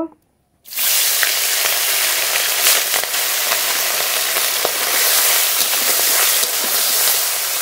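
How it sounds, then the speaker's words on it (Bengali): Small puti fish fry in hot mustard oil. After a moment of silence, a loud, steady sizzling hiss starts and keeps going without a break. "ছোট মাছগুলো আগে ভেজে নেব।"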